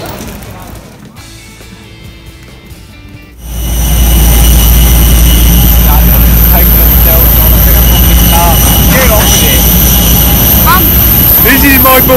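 Steady loud jet engine roar from a plane while boarding at an airport gate, starting abruptly after a few seconds of quieter terminal ambience and holding constant, with faint voices underneath.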